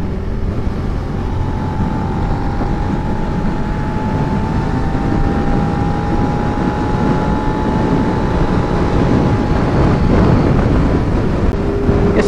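Wind roaring over a rider on a Suzuki SV650 motorcycle cruising a highway, with no lower fairing, a loud steady rush mixed with engine drone and a faint passing whine.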